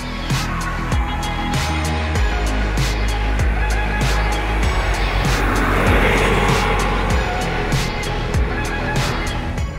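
A Peugeot 308 facelift with the 1.2 PureTech petrol engine drives along, its steady engine drone and road rumble holding constant and loud throughout with no talk over it.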